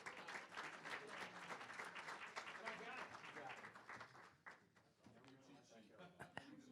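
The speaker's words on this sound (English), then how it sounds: "Give him a round of applause." Guests at the Carroll County Chamber of Commerce 2020 annual budget luncheon give a round of applause. The clapping is full at first, then thins out and fades, while voices talk beneath it.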